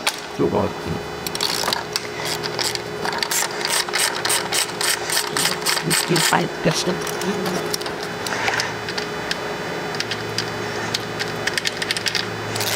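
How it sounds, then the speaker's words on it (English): A ratchet works loose the 8mm bolts on a Toyota 1FZ-FE distributor cap, giving several bursts of fast, close clicking with pauses between them, while someone talks over parts of it. "on the cap itself, there are 3 8mm bolts. We're going to loosen those up."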